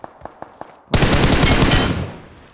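Gunfire in PUBG Mobile: a few single sharp shots, then a loud sustained burst of automatic fire that fades out over the last half-second.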